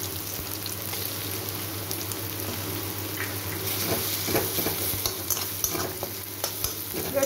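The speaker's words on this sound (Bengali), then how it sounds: "রসুনটা পেঁয়াজটাকে আমি একসাথেই ভেজে নেব" Onion and garlic fry together in a pan while being stirred, making a gentle sizzle with scraping stirring strokes that grow busier toward the end. The sound is fairly faint and close, with no speech.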